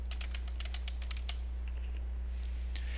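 Fingers tap out a character name on a computer keyboard while setting up a World of Warcraft Vanilla character: quick clusters of close, crisp keystrokes, then a few scattered taps and a soft hiss at the end.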